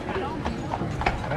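Horse hooves clip-clop along a street on Mackinac Island, a quick irregular clatter heard under steady nearby talking.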